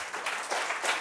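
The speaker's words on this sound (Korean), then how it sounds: "박수 한번 주세요." An audience at a Korean data conference talk applauds briefly, a short burst of moderate clapping in a few swells, with no talking.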